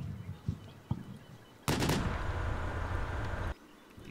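Sustained machine gun fire in the Black Sea game runs as one dense, loud, continuous burst for nearly two seconds, preceded by a few faint distant pops and followed by quiet background.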